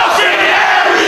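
A wrestling crowd at a Ring of Honor show roars loudly and steadily in support of Austin Aries, a dense, continuous wall of cheering with no pauses.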